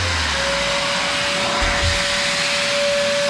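A GMC dual-action sander, carbon fibre and magnesium bodied, runs hooked up to a dust extractor while sanding a classic Mini floor pan, giving a constant loud whirring drone with a steady high whine and no pauses.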